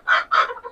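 Fayoumi hens on a small laying farm of about two hundred birds give two or three quick, close clucks in under a second, clear and fairly loud with no talk.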